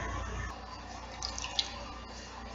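Cold water, about a quarter cup, poured into a measuring cup while making rainbow jello squares, a soft continuous trickle close by with a few faint drips and clinks, no voices.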